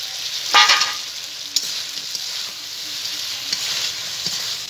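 Eggs go into a pan with a mix of three sauces, setting off a loud burst of sizzling that settles into steady frying with a few sharp clinks of a utensil.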